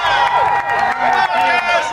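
Loud crowd at an Independence Day watermelon eating contest, with cheering and shouting voices blending into a steady roar that fills the whole short stretch without a break.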